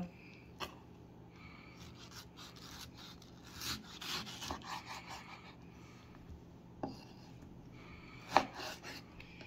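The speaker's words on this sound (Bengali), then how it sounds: "তারপর আমটিকে আমি টুকরো টুকরো করে স্লাইস করে নেব" A knife slices a peeled mango into pieces, giving a few soft, scattered cuts and light scraping against a board, with one sharper tap near the end, all quiet and close with no talk.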